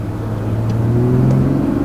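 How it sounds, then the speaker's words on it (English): A 2020 Toyota GR Supra engine hums and gradually rises in pitch as it accelerates, with turbo whistling, heard close and fairly loud for a couple of seconds. "This thing makes great turbo noises."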